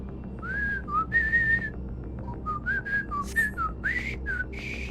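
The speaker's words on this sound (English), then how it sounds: "Too high a note to whistle it." A melodic whistled rendition of the first-level theme from the Mega Man X video game, a string of clear rising and falling notes, some held and some short, whistled alone up close with no talking.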